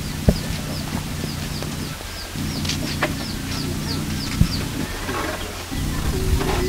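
Chickens clucking at a poultry feeding area, a steady run of short soft calls over a constant low mechanical hum, with a few sharp knocks scattered through.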